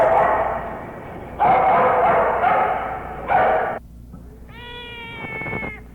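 Several dogs bark and yelp in dense, loud, overlapping bursts at a county dog pound, with a cat meowing among them and a whining, drawn-out cry near the end.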